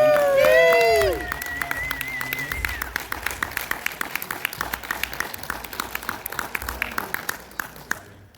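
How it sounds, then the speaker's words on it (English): A studio audience gives a big round of applause for departing guests at a video game debate panel, dense clapping that rises after an opening sound effect and fades out near the end. "We're gonna let these guys go with a big round of applause"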